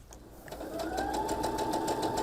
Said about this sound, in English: So I'm going to go ahead and stitch.